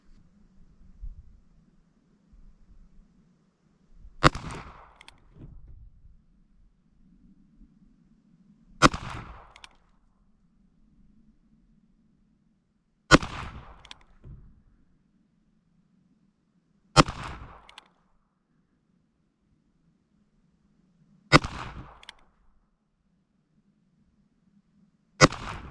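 Six evenly spaced shots from a Ruger Single-Six Convertible revolver firing .22 long rifle round-nose rounds through the shorter barrel, each a sharp loud crack about four seconds apart over quiet outdoor background.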